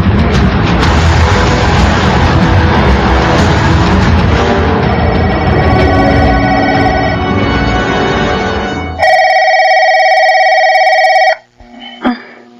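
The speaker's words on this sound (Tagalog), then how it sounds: "May tumatawag sa phone." A telephone rings loudly and steadily in bursts over a dense, booming dramatic music bed, then briefly rings alone before cutting off near the end.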